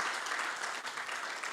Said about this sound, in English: Round of applause as we welcome the Minister.